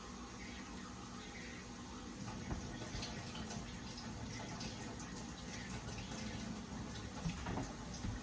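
Tap water runs steadily into a large measuring cup for cooking rice, a continuous close splashing stream that thickens slightly partway through, with no talking.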